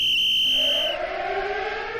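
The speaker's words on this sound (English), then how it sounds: "Whistle and the sirens blew." A loud, sustained prison whistle with a steady high tone that slides lower and blends into a wailing siren, close and continuous, with no talking.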